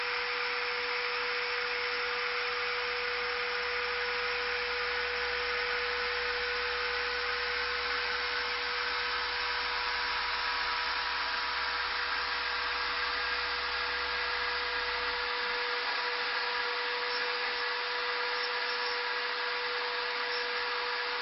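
A CNC machine runs as it cuts parts for a mini arcade cabinet, giving a steady, loud, continuous whir with a constant tone throughout. The low rumble drops away near the end.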